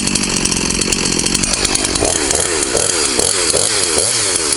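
Husqvarna 353 chainsaw running during break-in, engine loud and close, with its buzz rising and falling through repeated revving cycles and no voices.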